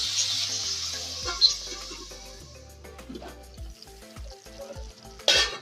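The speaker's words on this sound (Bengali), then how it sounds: "ঢাকা দিয়ে টমেটোটা সিদ্ধ হওয়া অবধি অপেক্ষা করব।" Tomatoes softening in a covered pan for a tomato chutney, a steady close sizzle and frying hiss with small pops and spits, a louder burst of sputtering near the end.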